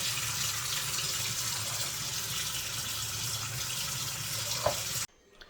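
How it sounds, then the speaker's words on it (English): Cold tap water runs steadily over raw lamb meat in a kitchen sink, a continuous near splash and gush that stops abruptly near the end. "So if you wash with cold water, that's better."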